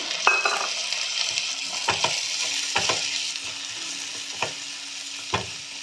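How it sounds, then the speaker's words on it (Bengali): Garlic, tomato and onion fry in a pan for a Bengali eggplant mash, making a steady close sizzle broken by sharp scrapes and stirs of a spatula roughly once a second, with no talking. "রসুন, টমেটো আর পেঁয়াজ আমি এটা ভেজে নিচ্ছি।"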